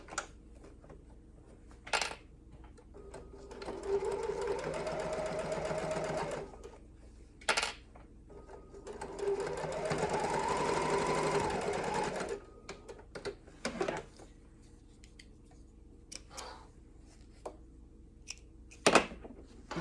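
A sewing machine runs a 3/8 inch seam in two steady bursts of a few seconds each. Between them come sharp clicks and clacks of handling, all close up with no talking.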